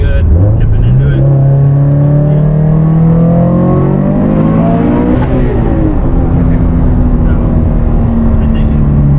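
A car with stock connecting rods revs hard and accelerates, its loud engine note climbing steadily in pitch, dipping briefly, then climbing again for the full stretch, with no talk heard.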